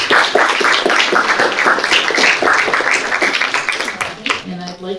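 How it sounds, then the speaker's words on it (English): Audience members at a local League of Women Voters candidate forum clap together, a dense, close round of applause lasting several seconds before tapering off, with a voice briefly audible at the end. "let's get a round of applause."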